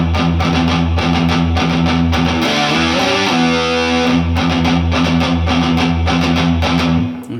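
Heavily distorted electric guitar plays a riff at a slow tempo, chugging gallop rhythms with a sustained bend in the middle, loud and continuous with no talking.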